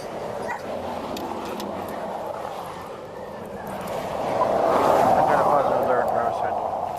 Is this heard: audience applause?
no